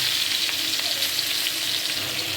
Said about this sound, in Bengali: পেঁয়াজটা একটু ভালো ভাজা দিয়ে দিব